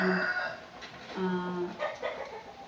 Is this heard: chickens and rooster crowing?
yes